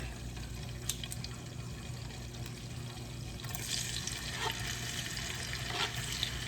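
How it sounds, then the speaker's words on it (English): Tomato sautéing in a pan for Haitian-style spinach with beef and shrimp, a soft continuous sizzle with wet, bubbling texture that grows a little louder and busier midway, with faint stirring. "I'm going to use some tomato, okay, to saute it."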